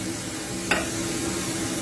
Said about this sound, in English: my potatoes are boiling away there for about 10 minutes